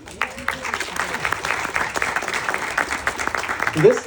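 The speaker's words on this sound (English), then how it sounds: "can we just get a round of applause for her?" A crowd claps enthusiastically, dense steady applause with a few cheers rising near the end.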